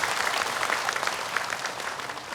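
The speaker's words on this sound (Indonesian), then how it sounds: "Boleh tepuk tangan." A studio audience at an Indonesian religious talk show claps together in a steady, dense wash of applause that runs through the whole short stretch without any talking over it.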